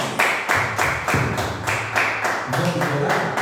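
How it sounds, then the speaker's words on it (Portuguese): Congregation clapping in rhythm for Jesus at an evangelical church service, steady beats roughly twice a second, loud and close throughout, with a low voice murmuring underneath. "Dê uma linda salva de palmas para Jesus"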